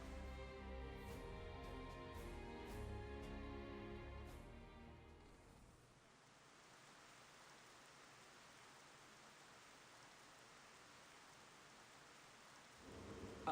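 Rain and a thunderstorm in the video game Xenoblade Chronicles: Definitive Edition on a stormy day: a steady, even hiss of rain carries on alone after tonal game sounds fade out.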